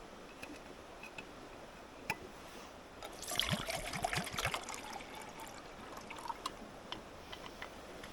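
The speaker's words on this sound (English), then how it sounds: "when this has gone to bloom, as I call it, we'll put some water on." Water pours into a kettle outdoors at night in a short burst of splashing and trickling, loud for a couple of seconds amid faint clicks and background hiss.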